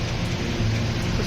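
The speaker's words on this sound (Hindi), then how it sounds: "कितनी तेज़ बारिश है।" Heavy rain pours down in a dense, steady hiss with no letup, close and fairly loud, and no voices are heard over it.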